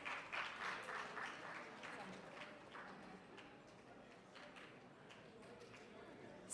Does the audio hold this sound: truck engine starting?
no